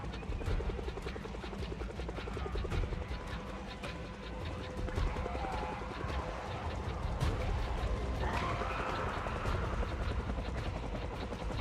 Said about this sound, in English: The helicopter again.